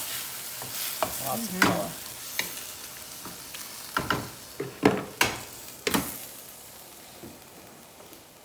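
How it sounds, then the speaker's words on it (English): A pot of crab callaloo is stirred with a string of close, uneven scraping knocks over a soft simmering hiss, while a voice speaks briefly. "Give it another stir"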